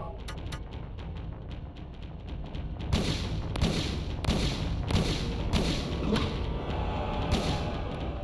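A shotgun fires in Silent Hill, heavy thudding blasts landing several times in irregular succession over a dense, noisy game soundscape.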